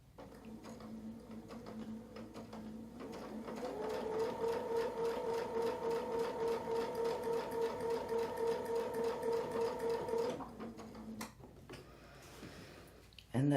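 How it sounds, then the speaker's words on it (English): A sewing machine runs steadily for several seconds, stitching a zigzag line with a busy mechanical hum and clatter, framed by quieter handling sounds before and after. "And that's how we sew a zigzag"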